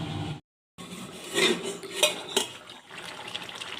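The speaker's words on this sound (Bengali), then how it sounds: "ভালোভাবে নাড়াচাড়া করে ঢাকনা দিয়ে সিদ্ধ হতে দেবো" Drumstick and potato curry being stirred in a pan, with a metal spoon scraping and clinking against the pan in irregular knocks over a soft sizzle, close up and without talk.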